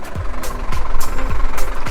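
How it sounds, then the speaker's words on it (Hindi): A jeep engine runs close by at a mountain camp near Chitta Katha Lake in Azad Kashmir, a loud, rumbling idle marked by regular heavy thumps about every half second. "जीप भी स्टार्ट है तो उसकी भी आवाज़ आप लोगों को आएगी"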